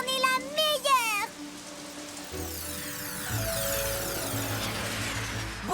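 Rain called down by a unicorn's magic horn in a children's animated series, a steady hiss of falling rain over shifting music, with a brief cartoon sound flourish at the start.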